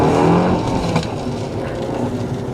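A Fiat 500 small car's engine pulls and accelerates on a road test drive, a steady close engine drone with rising tone, fairly loud and continuous, with no speech.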